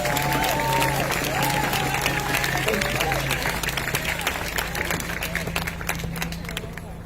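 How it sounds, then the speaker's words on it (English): A crowd at an outdoor Seattle rally to decriminalize King County claps steadily, with cheering voices and talk over the applause, which thins out gradually toward the end. "Yes, clap, please"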